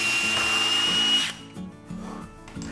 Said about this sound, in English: drill that hole out using this drill bit